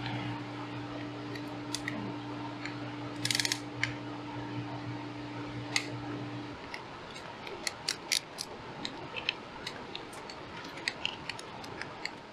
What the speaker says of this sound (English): we're gonna go ahead and torque the oil pump down to the block to 18 foot-pounds